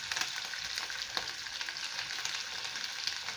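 Beef frying with ginger garlic paste for biryani, a dense continuous sizzle with scraping stir strokes, steady and close throughout without talking.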